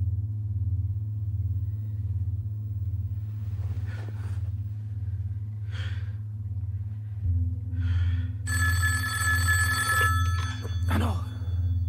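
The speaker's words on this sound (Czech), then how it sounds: "Buzení po telefonu, pane Kleine." A telephone rings for a hotel wake-up call, a bright electronic ringing that starts late and rises over a steady low engine-like rumble, with faint breaths before it.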